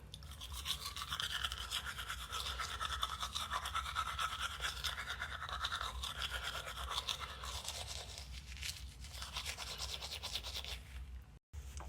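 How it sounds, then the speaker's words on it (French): Teeth being brushed with a toothbrush after breakfast, close steady rapid scrubbing strokes lasting several seconds with a brief pause near the end, no talking. "après mon petit déj, je me brosse les dents."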